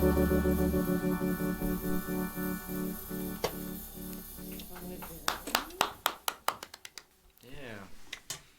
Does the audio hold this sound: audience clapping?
yes